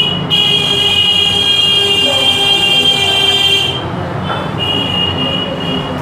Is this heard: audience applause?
no